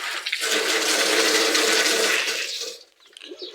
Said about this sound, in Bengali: আর এক্সট্রা কিছু পানি ভরে দিই যাতে পায়রাগুলো খেতে পায়